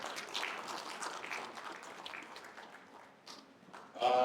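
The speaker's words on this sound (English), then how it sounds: "Please, a round of applause for them." Conference audience gives a round of applause, a dense continuous patter of many hands that holds steady, dips briefly, then rises louder at the end.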